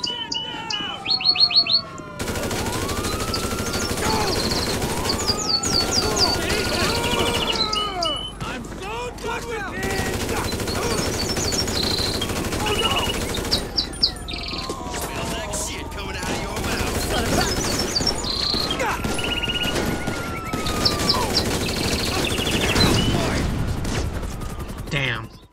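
Gunfire in the video game GTA 5 as a player shoots through an army of police officers: rapid bursts of shots crackle over sweeping siren tones and busy game noise, with a voice talking over it.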